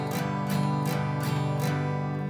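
A guitar is strummed across all six strings in a steady rhythm of about five full, ringing down-strokes, close and clear.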